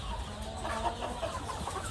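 Chickens cluck softly at close range in a low, irregular run of throaty calls over a faint background hum, with no clear voices.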